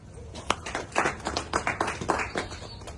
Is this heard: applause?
yes